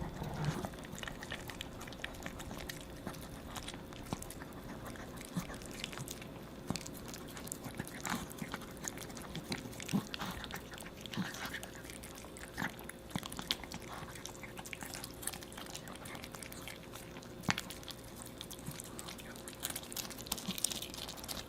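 A dog eats a special homemade treat with cabbage meant for easy digestion, making steady, close, wet chewing and crunching that runs without pause.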